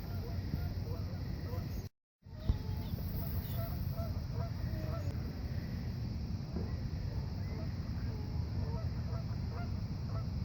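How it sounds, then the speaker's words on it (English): Several geese honk intermittently outdoors at a bird-watching spot near water, the calls moderately distant over steady wind and ambient noise, with a brief dropout early on. "A couple of geese."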